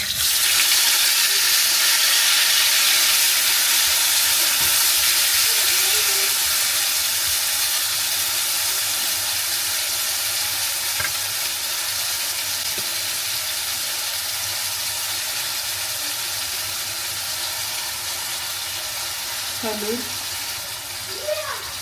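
Cumin seeds and raw tomato frying in a pan give a steady, loud broadband sizzle that hisses on throughout, with a few faint clinks and scrapes near the end.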